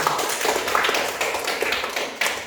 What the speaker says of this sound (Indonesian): Tepuk tangan untuk Eca